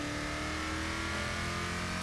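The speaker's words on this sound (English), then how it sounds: "the engine actually sounds really rather good as well" Engine of a Hot Wheels car in Forza Motorsport 6, a steady, loud in-game drone with a sustained revving tone and no pauses throughout.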